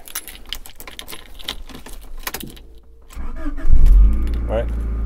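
A Honda Accord with a strange fault: keys jangle and rattle, then the starter cranks briefly and the engine catches with a loud surge before settling into a close, steady idle.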